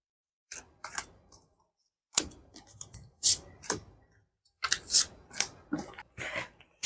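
Tarot cards are drawn one by one from a deck, making a series of short crisp flicks and snaps in separate bursts with quiet gaps between them, close and alone.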